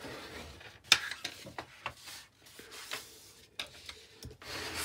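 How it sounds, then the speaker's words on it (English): Quiet, irregular rubbing and scraping strokes as card for a mini greenhouse is folded and burnished along its score lines. The soft swipes are close and come at uneven intervals with short pauses between them. "So just folding and burnishing on all these score lines."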